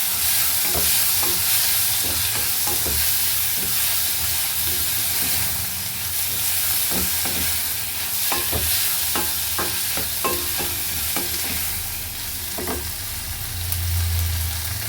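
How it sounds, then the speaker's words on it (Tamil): Curry leaves being sautéed in oil in a pan for pirandai kara kuzhambu, a continuous loud hissing sizzle with frequent spoon scrapes and stirs, close up, with a low rumble underneath and no voices. "ஒரு 2 கருவேப்பிலை கொத்து வந்து நான் உருவி வச்சுருக்கேன், அதையும் போட்டு நல்லா வதக்கிடுங்க"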